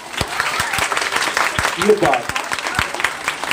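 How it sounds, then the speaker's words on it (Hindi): An audience at a church Christmas function claps in a run of sharp, evenly spaced hand claps, fairly close, while a voice speaks over them. "एक बार ताली हो जाए"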